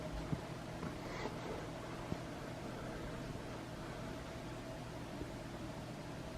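A 59-inch Casablanca Panama Halo ceiling fan with an XTR skeletal motor runs at low speed, giving a soft, steady broadband whoosh with a faint hum, quiet and continuous with a few tiny ticks.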